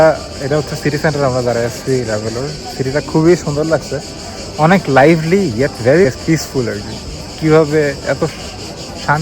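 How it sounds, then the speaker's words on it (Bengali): Crickets chirping in the center of Ravello on the Amalfi coast, a steady high insect trill in the background that runs the whole time under close, continuous talking. "ঝিঝি পোকা ডাকতেছে মনে হচ্ছে কাছে।"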